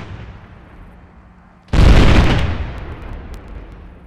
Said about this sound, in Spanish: veamos ahora el resultado de utilizar munición de fragmentación. Se trata de una única andanada, a un disparo por pieza.